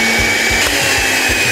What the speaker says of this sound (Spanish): vamos a empezar a moler únicamente esos cuatro ingredientes